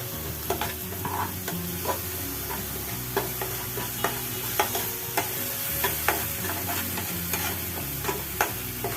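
Salted spice paste stir-fried in a pan, a steady sizzling hiss punctuated by regular sharp scrapes and taps of the spatula, close and continuous, with a low background hum.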